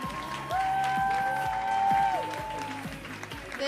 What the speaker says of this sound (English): A big round of applause for all the jumpers and these ones specifically.